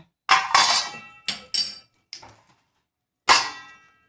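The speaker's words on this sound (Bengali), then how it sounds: "এবারে পুরটা আমি একটা পাত্রে ঢেলে নিচ্ছি ঠান্ডা করার জন্য।" Pea kachori filling being scraped out of a cooking pan onto a plate: a few sharp metallic clinks and scrapes in short bursts, close and fairly loud, with a pause before a final clang.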